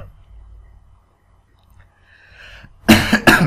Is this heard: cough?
yes